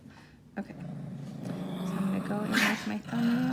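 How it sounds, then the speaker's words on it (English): A dog growls and whimpers nearby in a room, low rumbling bursts mixed with higher whines, while someone talks over it. "Please excuse my dog."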